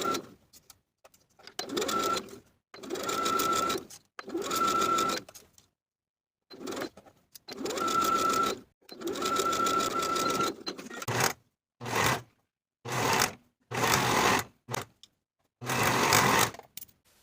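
Bursts of a sewing machine running as a flounce is sewn to an armhole, close whirring runs of one to two seconds separated by pauses, later shorter stop-start stitching.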